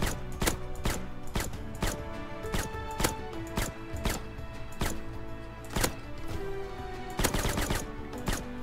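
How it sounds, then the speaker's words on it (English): Gunshots in the survival game Rust, a dense series of sharp cracks in uneven bursts over a steady low game ambience, loud and close with a cluster of rapid shots near the end. "Yep, not good shooting today, Tex."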